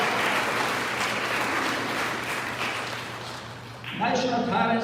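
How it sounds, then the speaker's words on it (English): Sustained applause from an audience of parents and children at a National Parents' Day event, a steady crowd clapping that fades toward the end before a voice begins speaking over the room. "Please give a round of applause to parents and children."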